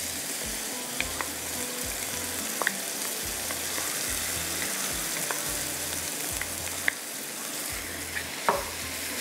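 Potatoes fry with masala in oil, a steady sizzle running under repeated scraping strokes of a spoon stirring the pan.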